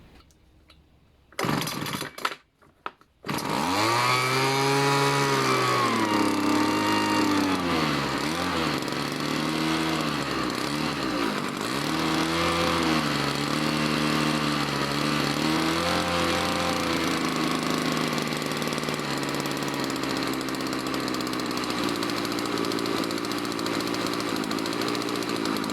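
Homelite Mighty Lite leaf blower small two-stroke engine starting after a few brief sputters, then running steadily near and loud, its pitch wavering slightly as it settles to a low idle during carburetor tuning.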